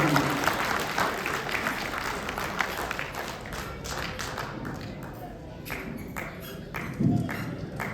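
An audience at a comic poetry recitation applauds to welcome the poet, with close, uneven clapping and some taps and thumps nearby, gradually thinning out.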